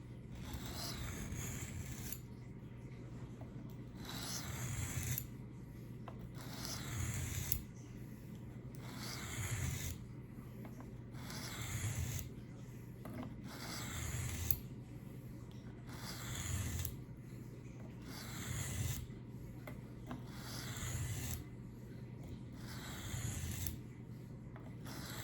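A knife drawn across the coarse grit side of a sharpening stone in regular rasping strokes, about ten even passes repeating every couple of seconds, close and fairly quiet with no talk.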